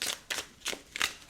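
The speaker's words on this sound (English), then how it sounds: "Wow, I've been shuffling for ages." Tarot cards being shuffled by hand, four quick papery riffles in a steady rhythm, close and fairly quiet with no talking.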